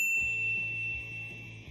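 A bright, high notification ding rings once at the start and then sustains and fades, sitting over a low rhythmic background pulse.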